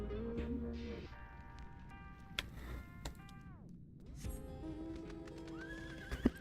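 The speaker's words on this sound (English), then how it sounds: "I summoned the Rama horse from my roulette." A summoned Rama horse in a video game neighs with a rising, tonal whinny, surrounded by layered game music and effect chimes, with a few soft hoof clops and clicks near the end.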